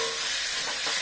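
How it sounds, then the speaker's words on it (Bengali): Cauliflower frying in mustard oil in a pan, giving a steady close sizzle and hiss with faint stirring through the whole second, and no voices. "আমি তাই সর্ষের তেল দিয়েই ভাজছি।"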